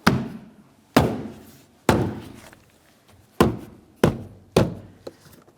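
Six sharp thumps as the interior rear door panel of a 2006-2011 Honda Civic is pressed and knocked into place, spaced irregularly, each a solid hit with a short decay.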